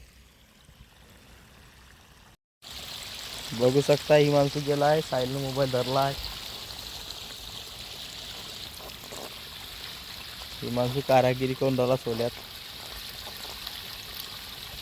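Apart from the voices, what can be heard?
irrigation water flowing into a field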